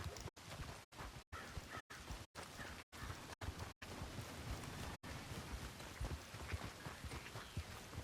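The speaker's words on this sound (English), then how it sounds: "Oh, hey, look, it's raining out of nowhere." Rain falls steadily in Red Dead Redemption 2, a faint, continuous hiss of drops broken by several brief dropouts, with distant soft rumbling beneath it.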